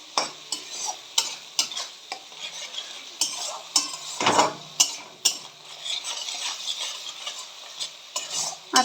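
Ground spices with turmeric and Kashmiri chilli powder sizzle in a pan over medium heat while a spoon stirs and scrapes, with sharp clinks against the metal over a steady frying hiss, close and without talk.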